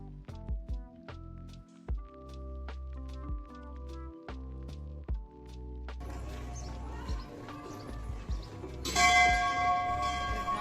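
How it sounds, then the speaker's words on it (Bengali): A bell at a Japanese temple in Eco Park, Kolkata, struck over and over in a steady rhythm of clear ringing hits, later blending into a denser, sustained metallic shimmer. "তো এই ঘন্টাটা অনেকক্ষণ ধরে বাজছিল"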